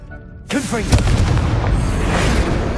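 A Confringo spell goes off in the Hogwarts video game, a sudden booming blast that breaks out and rolls on as a sustained rumbling roar, with a voice calling out over its start.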